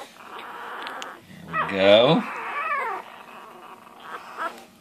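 One-week-old female puppies whimper and yelp in high, wavering cries that rise and fall near the listener, with a person talking quietly over them.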